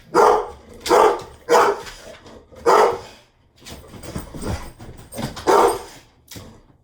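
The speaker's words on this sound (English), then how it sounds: "There's a dog out there." A dog barks outside in loud, spaced bursts, roughly five or six barks with short gaps, some yelping and whimpering between them, and no talk over it.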